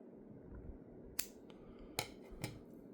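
Three sharp, brief snips of fishing line being cut while rigging a drop shot with a bobber stopper, each a crisp close click over a low background rumble.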